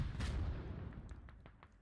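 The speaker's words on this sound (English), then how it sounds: "A lot of explosions there" Explosions sound around a village in the video game Squad on the Narva map, with a heavy boom followed by a string of sharper, fainter distant blasts.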